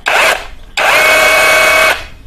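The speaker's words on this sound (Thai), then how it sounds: "ปรับมาโหมดเจาะกระแทกดูบ้าง" Cordless brushless OSUKA OSRH-26 SDS rotary hammer drill in hammer drilling mode: a short loud burst, a brief pause, then a longer steady run of rapid buzzing impact rattle over the motor whine.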